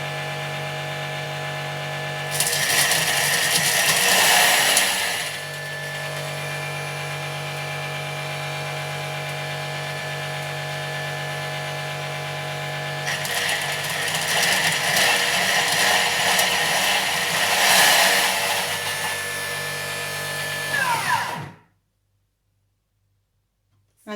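An electric grinder whirs steadily as it grinds fresh coriander together with its stems, with two louder, rougher stretches of chopping. The motor stops abruptly near the end, leaving silence.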